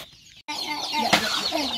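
Hens and chicks in a farm shed cluck and cheep close by in a brief, busy burst after a short gap, with several overlapping calls and no talking.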